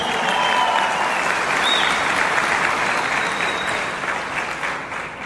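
Audience applause for the woman behind Onecoin fills the room, a steady dense wash of many hands clapping at full strength that thins slightly toward the end.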